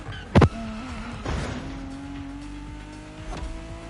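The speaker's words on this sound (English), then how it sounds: "that V6 sounded pretty good in the tunnel" A Lotus V6 engine in The Crew Motorfest racing game hums steadily with a rising pitch as the car accelerates, with a brief sharp knock near the start.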